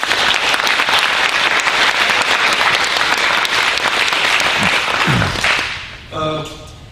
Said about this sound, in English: I want to applaud you all for being here because it gets us much closer.